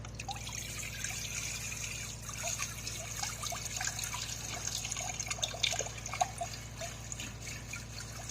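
Tap water trickling and running steadily from a faucet just after a tankless heater install, a continuous close splashing stream over a low mechanical hum, with no talking.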